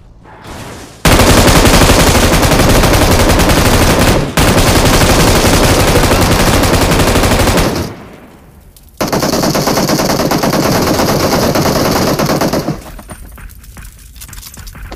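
An M249 machine gun in the PUBG Mobile game fires in loud, close, sustained automatic bursts: one long stream, a brief break, another long stream, a short pause, then a third burst before the shooting stops.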